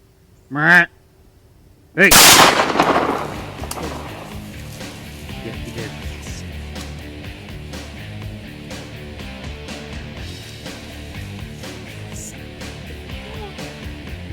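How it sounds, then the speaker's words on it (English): Rifle shot at a whitetail buck during an Ohio deer hunt: a loud, sharp blast rings out near the microphone and decays slowly, with a brief voice just before it and steady background sound after. "our young hunter quickly regroups for a follow-up shot"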